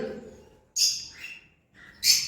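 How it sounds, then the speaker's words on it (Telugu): Pet cockatiels and African lovebirds give two sharp, shrill calls about a second apart, loud and close, with quiet chatter between them. "ఇందులో కనబడుతున్న ఈ కాక్టైల్స్ కూడా"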